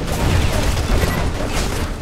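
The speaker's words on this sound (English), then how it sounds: "Pretty damn big explosion." A C4 explosion in the video game Homefront produces a loud, dense, full-range blast with a steady rumbling roar that fills the whole two seconds and carries no speech.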